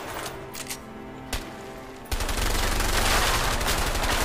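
Gunshots ring out in a fan edit: a few isolated cracks first, then from about two seconds a sustained, rapid machine-gun burst that keeps rattling loudly to the end, with no speech over it.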